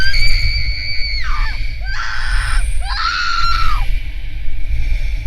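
Several voices scream in horror, one after another, in a horror audio drama: long, loud, overlapping shrieks that rise and fall, set against a low rumbling backdrop.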